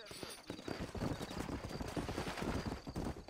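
Horse hooves clip-clop in a fast, steady gallop rhythm in the Red Dead Redemption video game, close and loud throughout, with a brief whinny-like texture and game ambience underneath.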